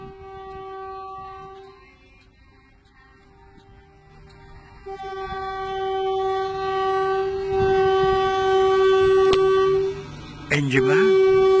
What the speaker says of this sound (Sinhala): අදට මගදී හම් වෙන කෝච්චියක් බලමු පෙට්ටිම කීයක්ද කියලා.